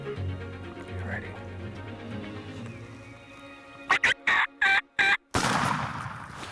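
A wild turkey gobbles in a spring Kansas turkey and coyote hunt, a run of four or five loud, close bursts with a stutter-like rhythm, following quiet, excited human voices and a rustling field background.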